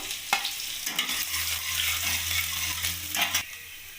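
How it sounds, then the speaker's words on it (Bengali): Chopped ginger and garlic frying in a wok while being stirred, a continuous close sizzle broken by scraping strokes and a few clinks of the spatula against the pan. "আদা আর রসুন কুচিটা আমি ভালোভাবে ভেজে নেব।"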